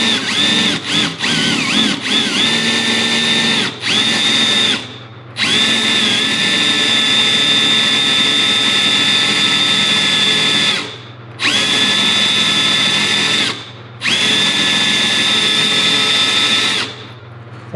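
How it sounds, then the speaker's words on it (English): A power drill fitted with a hole saw cuts through material during an LS swap on an S10 Blazer, running in long, loud whining bursts with brief pauses between them. "Any of you that have used those hole saws before know that they move around quite a bit"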